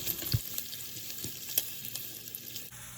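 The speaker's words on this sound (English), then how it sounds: "just let that saute and cook down a bit" Onions and minced garlic sauté in rendered bacon fat for collard greens, a steady close sizzle with faint stirring scrapes and no voices.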